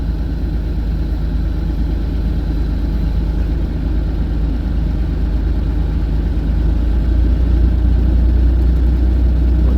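Bobcat E42 excavator engine running steadily at a low, constant rumble, close and loud, with a slight rise in pitch toward the end.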